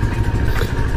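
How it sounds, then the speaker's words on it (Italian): A Moto Morini Seiemmezzo SCR motorcycle engine runs smoothly at a steady idle-like rumble, close and continuous with no other sounds over it. "Il motore gira molto fluido"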